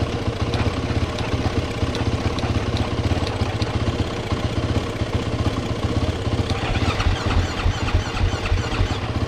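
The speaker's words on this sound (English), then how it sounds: "let's push the crank button. Okay, she's cranking." A KTM SX-F 450 dirt bike with a no-crank fault turning over on the starter, a steady close mechanical whirring and chugging that continues throughout, with a slight shift in tone near the end.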